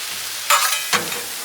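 Steak, shrimp and mushrooms sizzle on a Blackstone griddle as a steady, moderately loud frying hiss, broken by two brief scraping stirs of a spatula against the flat top.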